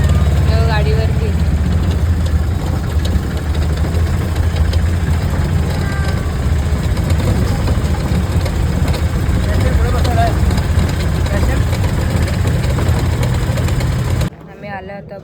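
Steady, loud engine drone of a vehicle riding away, continuous and droning for most of the clip before dropping off abruptly near the end.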